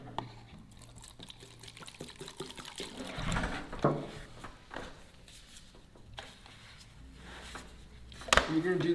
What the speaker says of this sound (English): dump it into your waste container, which is this paint can I'm using